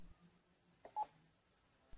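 Keypad tones from a Panasonic KX-TES824 phone system handset during programming: a couple of short, faint beeps near the middle with a brief click at the end, over quiet room hiss.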